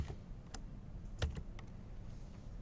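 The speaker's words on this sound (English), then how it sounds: "If you just go and you type in Sony" Typing on a computer keyboard produces quiet, scattered keystroke clicks in an uneven rhythm over a soft, steady background hum.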